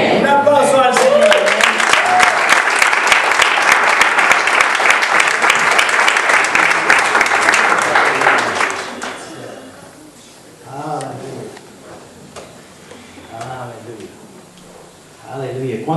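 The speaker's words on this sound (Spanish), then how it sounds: "Un aplauso al Señor." A congregation claps loudly and steadily during a church worship service, the applause then cutting off and giving way to quieter talking voices.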